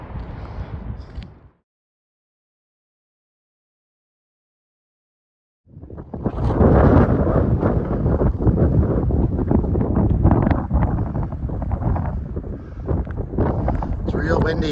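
Strong wind buffeting the microphone high on a Continental Divide Trail mountain section in Colorado between Breckenridge and Winter Park, loud rumbling gusts that drop out briefly and then return heavy and sustained for many seconds.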